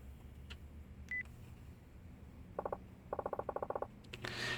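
Telephone keypad dialing in the video game Yakuza 4 Remastered: about ten short, evenly spaced electronic tones in quick bursts, clear and fairly close, preceded by a lone beep and a few soft clicks over a quiet background.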